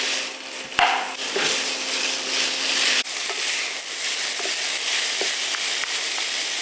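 Marinated pork sizzles loudly in an oiled skillet over medium heat with garlic and onion, a steady close frying hiss with a few scrapes and clinks of stirring.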